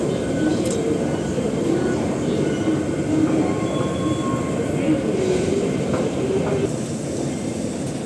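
An MTR subway train in Causeway Bay station, Hong Kong, gives a loud, continuous rumble of carriages and rolling wheels with faint squeals and tones on top, steady throughout, as voices talk in the background.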